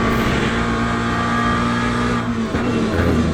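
Race car engine in the driving game Le Mans Ultimate, a loud, close, sustained drone with a steady engine tone that dips briefly as the revs shift, heard alone without talk.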